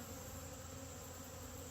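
A gentle honeybee colony hums in a dense, steady drone, close and unbroken, with no voices over it.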